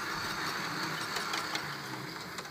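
A repaired model train locomotive, a 158 unit, runs quietly along the track with a soft, steady motor hum and faint rhythmic clicks, low and even throughout.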